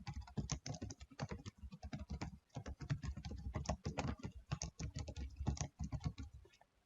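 Dense, rapid clicking of keys on a computer keyboard as C# code is typed, continuous close-up patter with only brief pauses.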